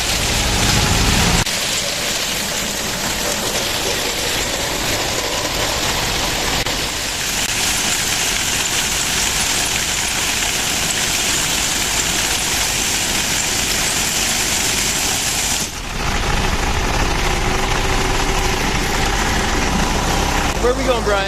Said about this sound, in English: we got another tractor that comes out here